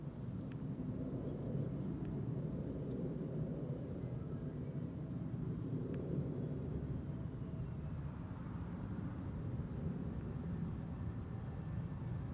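An airliner arrives on the Polderbaan runway at Amsterdam Schiphol, heard as a faint, distant, continuous low rumble with no talk.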